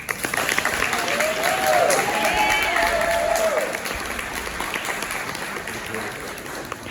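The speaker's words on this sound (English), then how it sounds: "Another round of applause for Donna." Audience at a diversity forum applauds in sustained clapping that swells and then tapers, with speech and cheering voices mixed into the crowd noise.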